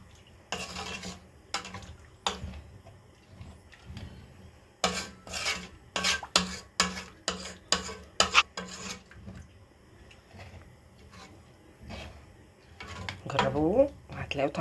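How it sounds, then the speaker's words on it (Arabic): Egyptian rice is stirred in a pot with a spoon, giving bursts of gritty scraping and rubbing strokes in an irregular rhythm, close and fairly quiet, with someone talking between them. "بنحط نص معلقه ملح. نبدا نقلب بقى كده."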